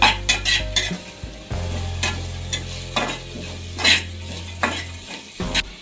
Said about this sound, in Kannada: ತುಪ್ಪ ಹಾಕಿರೋದ್ರಿಂದ ಎಲ್ಲನೂ ಕೂಡ ಒಟ್ಟಿಗೆ ಫ್ರೈ ಆಗುತ್ತೆ